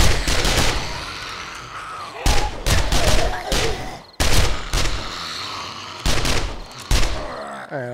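Bursts of rapid automatic gunfire in the zombie survival game 7 Days to Die, several separate volleys spaced a second or two apart, loud and close, with a few grunts between.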